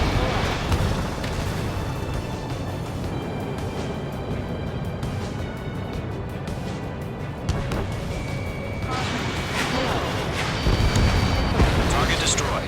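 In the Ace Combat 7 combat flight game, a destroyed target blows up with heavy booming blasts over a constant roar of jet engine and battle noise, while radio voices talk over the action.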